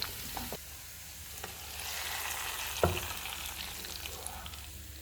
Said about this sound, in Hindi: अब इसमें सब्ज़ प्याज डाल देंगे। इनको हम 1 से 2 मिनट तक फ्राई करेंगे।